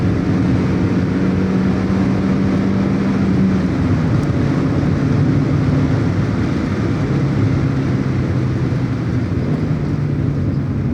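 A stock 1992 Mazda Miata NA engine drones steadily from inside the cabin through heel-toe downshifts, with the pitch stepping and shifting under constant road and wind roar, loud and continuous without speech.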